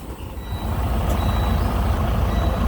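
A semi truck idles and creeps forward in drive while sliding its tandems, a heavy low diesel rumble with faint intermittent beeping on top, close and steady.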